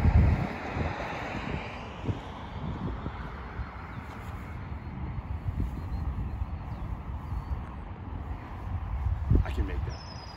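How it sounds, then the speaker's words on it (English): Stiff wind buffets the microphone on a disc golf course at NorthRidge Church in Plymouth, Michigan: a low rumbling gusty roar that swells and eases throughout, with someone talking over it. "it's pretty stiff wind out here"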